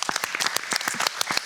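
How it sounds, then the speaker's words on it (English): An audience claps for a lung cancer patient and caregiver panel, sharp individual claps close by, irregular and fairly loud, brief and without talking. "A big round of applause for all of you."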